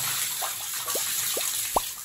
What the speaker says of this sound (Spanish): vamos a empezar a tirar de agüita.